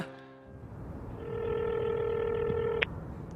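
A telephone sounds a steady electronic tone for about two seconds before cutting off abruptly, with a faint hum beneath and no one speaking.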